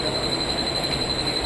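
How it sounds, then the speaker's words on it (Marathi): A fast train rushes past a railway platform in a loud, continuous roar of wheels and carriages, with a steady high-pitched whine running through it and no voices. "एक जलद गाड़ी जाने वाली है."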